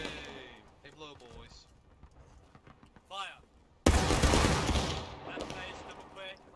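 A loud musket volley fired by a line of infantry in the Civil War game War of Rights crashes out suddenly midway and rolls on into scattered shots after shouted commands.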